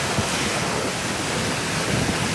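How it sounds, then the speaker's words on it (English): Strong wind of 15 to 22 knots and breaking waves around a sailboat crossing the Gulf Stream off Florida, a steady, loud broadband roar and wash with no pauses and no talk. "It's blowing 15 to 22 knots."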